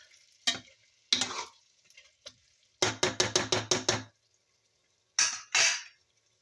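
Chicken curry is stirred in a pan in bursts of scraping and thick bubbling, including a rapid run of six or seven close strokes, separated by near silence.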